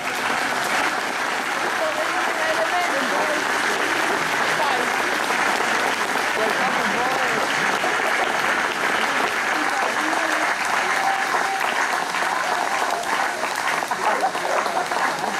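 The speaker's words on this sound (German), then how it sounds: "Und bitte jetzt noch mal einen kräftigen Applaus." An outdoor audience in Steinhude gives a sustained, dense round of applause that holds steady and loud for the whole stretch, with no pauses.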